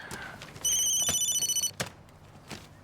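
An office telephone bell rings with a bright, rapidly trilling electronic burst lasting about a second, set among faint room sounds and a few light knocks before and after.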